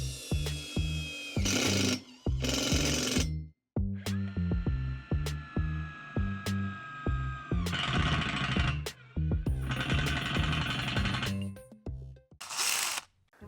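A Makita DTD172 impact driver in T mode 2 drives self-drilling screws into thick metal plate: loud, close rattling hammer bursts in a series of separate runs, some starting with a whirring spin, split by short pauses.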